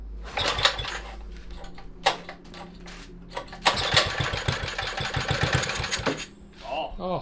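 A 1968 Bonanza mini bike engine is pull-started with the choke on, giving a few short rattling bursts before it catches and runs in a choppy, sputtering rhythm. Voices are heard nearby.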